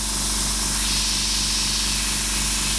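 An airbrush sprays a continuous loud hiss of air over paint on metal, steady and close, with a faint rhythmic pulsing underneath from the compressor.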